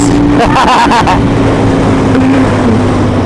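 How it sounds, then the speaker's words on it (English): Aprilia Tuono Gen 2 motorcycle accelerating in fourth gear with the throttle rolled open, a loud steady engine drone heavily mixed with wind roar as the bike rides along. "There's that fourth gear, roll the throttle open and away you go."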